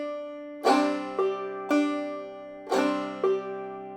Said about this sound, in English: This time, we're just going to play 2 open clawhammer strums on the first string.